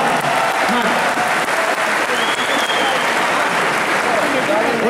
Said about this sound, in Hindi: एक बार खुद के लिए तालियां बजाइए